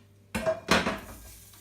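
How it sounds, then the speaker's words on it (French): A quick metallic scrape and clunk as a pan slides across a stovetop, two short close knocks in otherwise quiet surroundings. "On va pousser le poêle parce que ça me gêne."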